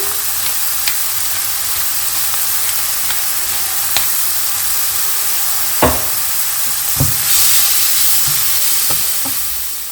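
Mushrooms sizzle steadily in a frying pan, a constant close hiss with occasional stirring clicks and scrapes of a utensil breaking through, no talking.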